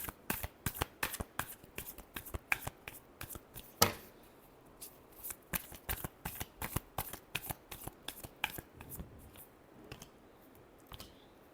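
Tarot cards are shuffled in a quick run of crisp riffling flicks and taps, close and fairly quiet, with brief pauses between bursts and no talk.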